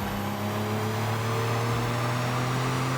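A Porsche engine on a dyno drones at high, sustained revs near 7,000 RPM with a strong steady whine and harmonic hum, loud and close, slightly shifting pitch midway.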